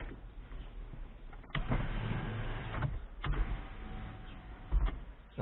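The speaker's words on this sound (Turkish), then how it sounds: "Ben biraz daha cam açayım" The power window of a Hyundai Accent Era car runs with a steady electric motor whine inside the cabin, broken by a few dull thumps as the glass moves and stops.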